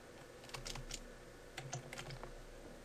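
Someone types on a computer keyboard in two short bursts of crisp, close key clicks, with no other sound around them.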